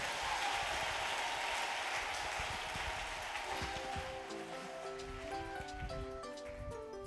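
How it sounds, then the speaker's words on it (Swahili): A church congregation applauds for several seconds, a dense patter of clapping that fades as a sustained tonal music bed rises underneath; any ululation is not clearly distinguishable. "Tumpe Yesu makofi ya shangwe na vigelegele."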